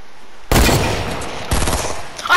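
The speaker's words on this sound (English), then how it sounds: "I hit him with a hunting rifle?" Loud gunfire from a hunting rifle in the Fortnite video game, an abrupt blast followed by a second burst a second later, with sustained noisy echo between and after.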